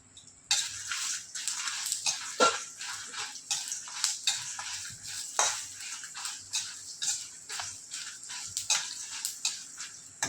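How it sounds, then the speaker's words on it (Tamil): Coriander seeds and dried chillies are dry roasted in a pan on a stove, giving close, crisp scraping and stirring with repeated sharp clinks of a spoon against the metal. "இந்த தனியாவும் மிளகாவையும் போட்டு கொஞ்சம் வறுக்கணும்."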